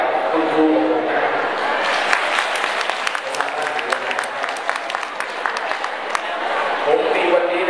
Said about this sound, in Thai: ขออนุญาตทุกท่านนะครับปรบมือให้กับคุณครูของผมนะครับ